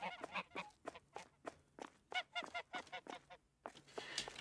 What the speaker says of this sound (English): There's like a crap ton of geese in here.